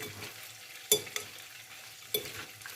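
Potatoes frying in a pan with sauce are stirred gently, giving a soft constant sizzle under a few sharp scrapes and clinks of the utensil against the pan, faint and close with no talking.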